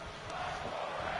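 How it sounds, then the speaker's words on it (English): A temple wrestling event crowd roars in a steady, dense wall of cheering, loud and continuous throughout. "The crowd is loving this."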